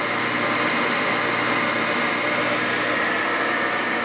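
A Studer RM-250 universal cylindrical grinder runs on a very slow feed, giving a steady, continuous broadband hiss and whine with a faint high tone, close and even throughout with no talk.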